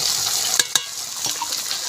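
Carrots and potatoes added to a pan of frying spices and fried prawns, cooking okra: a steady bright sizzle with two sharp clatters of pieces dropping in, then continued frying and light stirring, with no talking.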